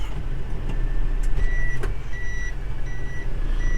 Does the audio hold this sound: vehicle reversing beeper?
yes